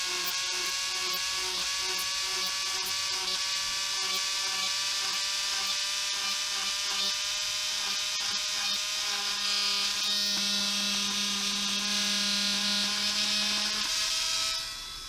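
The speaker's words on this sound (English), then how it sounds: "here I'm using a 1mm drill bit, making a lot of tiny holes" A small high-speed rotary tool with a 1mm drill bit whines steadily and continuously, drilling tiny holes in a model ship part, its pitch shifting slightly as it bites into material, with no pauses.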